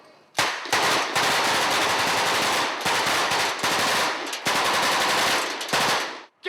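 A period Tommy gun fires long, loud bursts of automatic gunfire on a King Kong film set, with short pauses between the near, rattling volleys.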